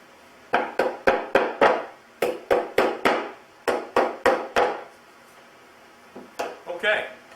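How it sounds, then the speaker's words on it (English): Wooden dowels for a bench hook driven in by hammer: a run of sharp, evenly spaced knocks in quick bursts, loud and close, followed by a pause and a few more blows. "I'm going to set these dowels in about halfway."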